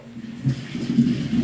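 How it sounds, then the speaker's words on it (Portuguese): A noisy toilet being flushed, giving a low rumbling rush of water that swells and stays steady across the short stretch. "Aí você dá descarga,"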